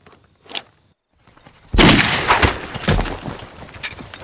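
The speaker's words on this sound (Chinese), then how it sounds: "真的开枪了！" Gunshots in a Chinese anti-Japanese war drama, starting with a faint shot and then a loud burst of several cracks in quick, uneven succession, echoing with a battlefield din and no speech.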